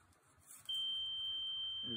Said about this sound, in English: And this thing will beep whenever I touch the water.